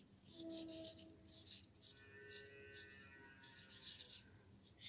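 A pen or pencil scratches out numbers by hand on paper, short rhythmic strokes in quick clusters with small pauses, close and quiet.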